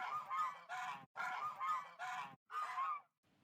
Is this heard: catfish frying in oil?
no